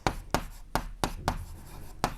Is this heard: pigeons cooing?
no